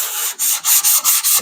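2K primer on a car body panel is hand-sanded in short, rhythmic back-and-forth strokes, about five loud, close scrapes in a row, with no voices.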